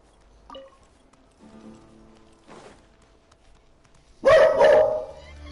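A dog barks in the Genshin Impact video game, a short burst of loud yelping near the end, following quieter game sounds and soft music.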